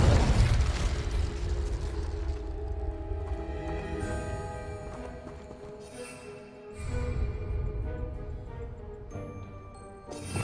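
Blasting-spell explosions in the Hogwarts Legacy video game, a loud burst at the start followed by rumbling debris and tonal game effects, with another blast near the end.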